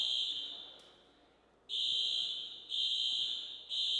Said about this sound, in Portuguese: É o alarme que está tocando.